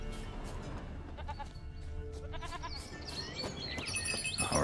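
Goat bleating in The Witcher 3, several repeated bleats over a busy game soundscape with ambient music and chirping birds, growing louder toward the end.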